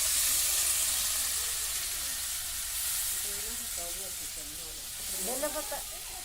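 Eggs fry in a pan in a village kitchen, giving a continuous soft hiss and sizzle, while faint voices come in briefly toward the end.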